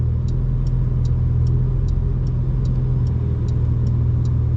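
A Porsche 911 Turbo S engine running in Sport Plus mode gives a steady, loud low drone with an even rumble, plus a faint regular ticking on top throughout. No talking is heard.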